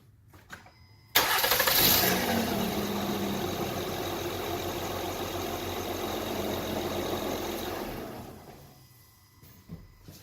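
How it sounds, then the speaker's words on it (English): A car engine cranks and catches with a loud burst, then settles into a steady idle for several seconds before dying away, heard up close during a power steering fluid flush on an 8th-generation car. "So I'm gonna start the car and pump the fluid out"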